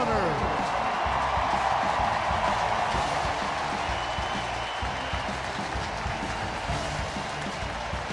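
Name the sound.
stadium crowd cheering during Ring of Honor unveiling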